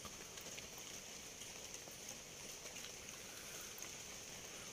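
Heavy rain pours through a tropical rainforest at night in the cold season, a dense, even hiss with no pauses, steady but faint.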